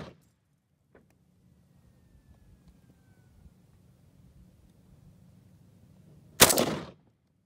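An AK-74 rifle bump-fires outdoors, heard as one loud, brief burst of rapid shots near the end after several seconds of near-silence and a faint click.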